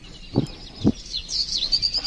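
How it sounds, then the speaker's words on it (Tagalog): During a stage monologue performance, two short thumps, then thin high bird chirps flutter in the background, brief and fairly faint, without any talking. "Nagtitipangan ang mga ibon."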